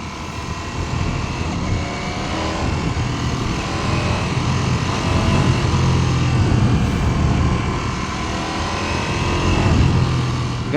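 A 2026 Ducati Panigale V4S motorcycle on the road, its engine droning and rising steadily as it accelerates, heard from the rider's position with wind noise throughout and no talk.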